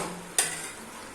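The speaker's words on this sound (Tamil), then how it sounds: "இப்போ வந்து நாம் இதில் பிச்சு வச்ச இந்த ஆம்லேட்டை எடுத்து போட்டுடலாம்" Torn pieces of omelette drop into an egg gravy in a pan, giving one brief sizzling splash that fades into a quiet simmer, with no talking.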